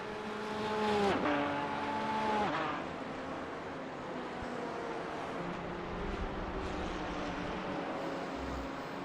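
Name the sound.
race car engines in a sim racing video game at Summit Point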